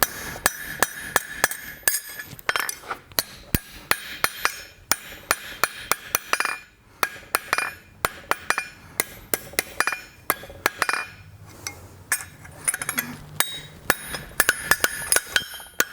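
Blacksmith hammering the flare on a small iron leg for an 18th–19th century style toaster, sharp ringing metallic blows in quick uneven bursts, close and loud, with brief pauses between series.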